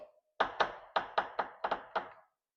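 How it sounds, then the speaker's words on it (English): Car creaking as it is lowered off a jack placed on the sill, with a VW Golf Mk 7 1.6 TDI settling; seven sharp creaks and thunks in an uneven rhythm, close and fairly loud, with no talking. "What's all those creaking noises?"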